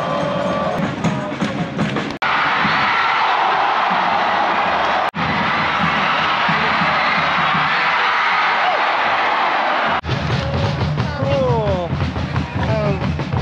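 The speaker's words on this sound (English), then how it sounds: "But again, this is the crowd here." Football stadium crowd at Chiang Rai United vs Bangkok United, a dense, loud roar of cheering and shouting throughout, with brief cuts and voices mixed in.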